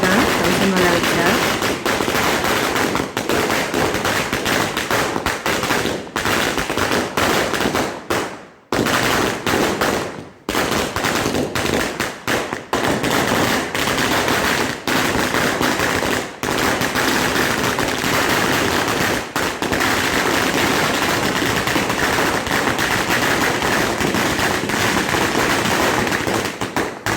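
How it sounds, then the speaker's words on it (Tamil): A 1000-wala firecracker string bursts for Diwali in a long, dense, continuous rattle of loud pops with only a brief gap, sustained for the whole stretch. "அதனால் என் பொண்ணு தான் 1000 வாலா வச்சா."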